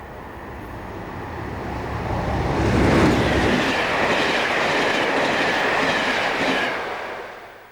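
A tank train passes on a British Rail line, a loud, steady rumble of wagons with clickety-clack and faint wheel squeal that swells and holds before easing off.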